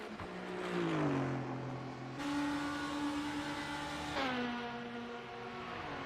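A race car engine at the Road Atlanta 10 Hours endurance race, loud and close, with a steady engine note that rises and falls as it revs between gear changes and runs alone without talk.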